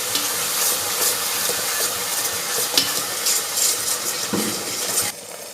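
A spoon steadily stirs puliyogare spice mix in a hot pan, with continuous scraping and a soft sizzle throughout before it suddenly quiets near the end; no talking.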